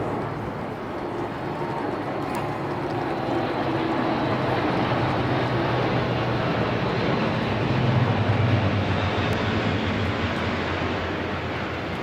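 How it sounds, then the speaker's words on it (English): A four-propeller Atlas military transport flies past, a broad, steady roar of propeller engines that swells slightly near the end and stays loud and continuous throughout, with no voices over it. "The Atlas, the 4-propeller engine Atlas, coming into service as a replacement for one of the older C-130 Hercules models."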